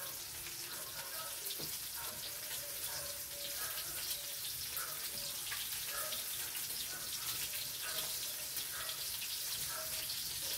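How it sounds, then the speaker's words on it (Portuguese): Sardines fry in a pan over a wood fire, giving a soft, steady sizzle and crackle that runs unbroken from start to end with no voices over it. "Vou fritar essa sardinha"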